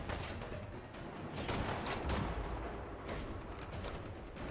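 Artillery barrage called in by a smoke grenade in the video game Fallout 4, a dense rumbling wash of distant booms and blasts rolling on steadily throughout, with no talk over it.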